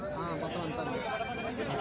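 Several goats and bucks bleat at a crowded weekly livestock market in Kadiri, their calls overlapping with a steady murmur of voices and bargaining chatter throughout.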